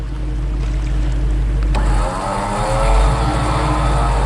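A Toyota 4Runner rolling through a flooded desert wash near Needle Rock, heard as a loud, steady low engine rumble with rushing, sloshing water noise, and a sharp knock partway through.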